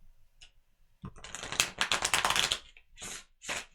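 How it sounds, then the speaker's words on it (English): Tarot cards being shuffled by hand in a bursty riffle of dense flicking and papery slaps lasting about a second and a half, followed by two short card taps, close and fairly quiet with no talk. "Oh, I didn't shuffle very well."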